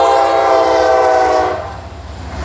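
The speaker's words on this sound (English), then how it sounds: "I hear a train coming." A loud, close train rumbles past with a sustained horn blaring, then the horn cuts off, leaving the low rolling rumble of the cars.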